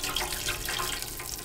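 Frying grease poured into a fish fryer, a steady close, rushing liquid pour that runs without a break and has no talk over it.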